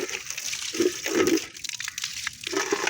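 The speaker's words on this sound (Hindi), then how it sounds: "ये पानी भर रहा हूँ मैं यहाँ पे।" Tap water runs and splashes into a container being filled for a goat at an outdoor spigot, a steady gushing flow with surging bursts, close and fairly loud, with no voices.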